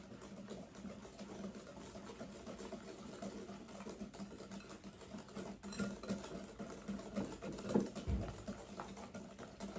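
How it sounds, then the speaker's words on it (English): A whisk works tea bread batter with brown sugar in a bowl, giving a faint, fast, continuous rhythmic tapping and scraping close by, with one louder knock near the end. "So let's whisk that all together here."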